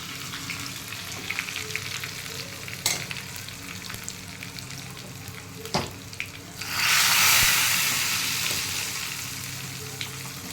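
Curry leaves and asafoetida hit hot oil for a sambar tempering and give a steady close crackling sizzle with a few sharp pops. A sudden loud hiss swells partway through and then slowly fades.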